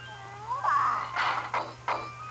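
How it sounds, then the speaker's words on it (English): A cat lets out a drawn-out, wavering meow followed by a couple of shorter rough bursts, fairly close over a low steady hum, with no talking. "Cat, get off there."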